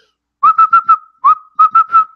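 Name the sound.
person whistling imitation of a northern cardinal's call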